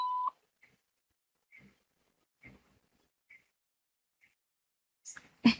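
A single short electronic beep sounds at a church worship service, followed by faint scattered clicks in near silence, then brief distant voices at the end.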